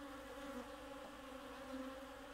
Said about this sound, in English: that is a bee